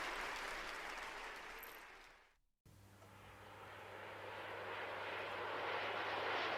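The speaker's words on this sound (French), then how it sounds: "Atterrissage du vol panafricain en provenance de Donaldville." An airplane comes in to land in a cartoon setting, with a broad roaring engine rush that swells, drops to a brief silence, then returns as a steady, growing roar with a low hum beneath.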